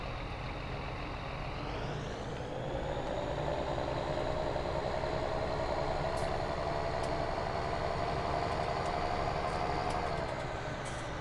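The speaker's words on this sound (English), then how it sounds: "I'm not one for straight piped tractor sounds too much" A straight-piped tractor with an open exhaust in Farming Simulator 19 idles, then revs up and holds a loud, steady engine drone before easing back slightly, with no talking.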